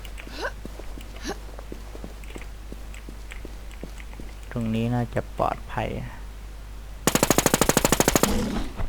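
Machine gun fire in the video game Infestation The NewZ during a boss fight: a rapid, loud burst of shots near the end, after someone speaks over steady background game noise.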